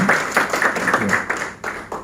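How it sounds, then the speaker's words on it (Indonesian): A church congregation claps during a worship service, a short burst of several distinct claps blending into moderate applause, fairly close and uneven, with no voices over it. "beri tepuk tangan untuk kehadiran"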